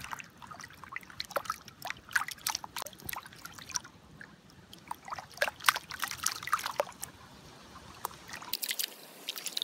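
Water trickles and sloshes in a gold pan as a scoop of sluice tailings is washed at a river, with soft irregular splashes and dribbles close by, no voices.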